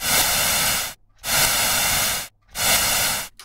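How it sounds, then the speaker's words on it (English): Three loud bursts of white noise through a high-resonance bandpass filter, hissy and tuned with a whistling edge, each about a second long with short silent gaps between. "running a noise into a bandpass or, uh, in this case, a bell curve filter and using a very high resonance"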